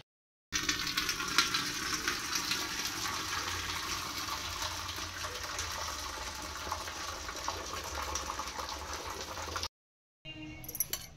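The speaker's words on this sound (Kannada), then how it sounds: "ಹಂಗಾಗಿ ಈಗ ಅವನ್ನ ನೀರೆಲ್ಲ ಬಸ್ಕೊಂಬಿಡ್ತೀನಿ ರೀ ನಾನು" Boiled lentils being drained of their water for holige, a steady pouring and splashing rush that runs evenly for about nine seconds, then stops abruptly before a short quieter burst.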